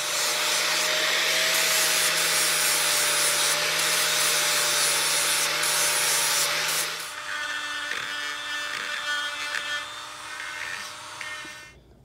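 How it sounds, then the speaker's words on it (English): A die grinder with a carbide burr dresses the hardy hole of a cast 66-pound anvil, a loud steady high whine with grinding rasp for about seven seconds, then a lighter, uneven grinding that tapers off near the end. "dressed up the Hardy with the die grinder and a carbide burr"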